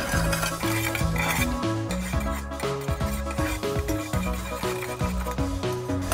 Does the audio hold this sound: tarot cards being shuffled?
no